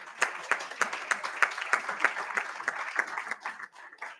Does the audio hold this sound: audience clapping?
yes